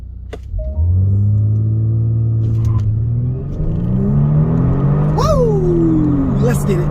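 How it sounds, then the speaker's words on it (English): A 2022 Genesis G70 Launch Edition on the road, its engine rumbling up through rising revs in a loud, close pull with the pitch climbing and dropping through gear changes, and a brief sharp shift in the middle. "let's get to the exhaust notes and let's get to the drive."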